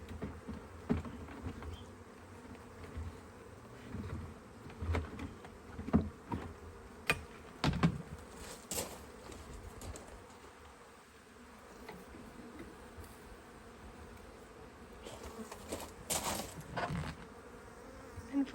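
Honeybees buzz quietly around a HiveIQ hive holding a captured swarm, a faint, continuous hum with intermittent louder passes and handling bumps.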